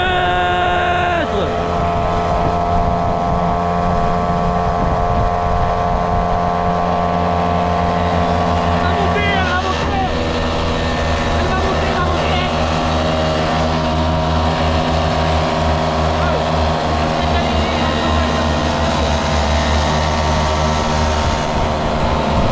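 Motorcycles riding along a road on a group road trip, a continuous loud engine and wind roar with shifting tones, riders' voices heard over it.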